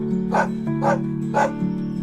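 Dog barking close by in three sharp, evenly spaced barks over a steady background hum, with no talking.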